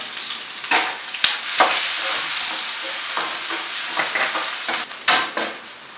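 Onions and ginger sautéing in a pan with salt and pepper for General Tso's chicken, giving a steady close sizzle broken by a few sharper stirring scrapes, with no voices.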